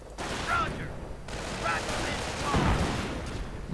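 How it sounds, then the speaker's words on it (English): Battle sounds from a war strategy video game: mortar rounds and gunfire crackle and thud in bursts across the moment, with a heavy impact near the end, while a voice talks over the action throughout. "Mortar rounds flying through the air."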